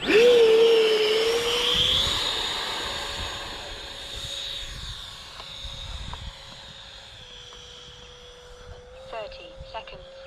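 An E-Flite FJ-2 Fury RC jet flies past with a loud, high whine that rises, then fades with distance into a steady, thinner tone that carries on to the end.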